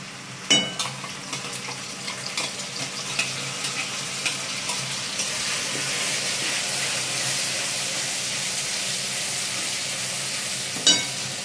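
Onions and spices for a lote fish curry sizzling and crackling steadily in hot oil, close up, with a few sharp clinks of a stirring utensil against the pan at the start and near the end.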